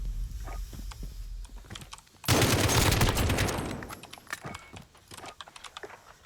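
An AK rifle in a video game fires one dense, loud burst lasting about a second and a half, with scattered clicks of computer keys tapping before and after.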